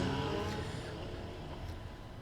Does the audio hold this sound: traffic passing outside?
yes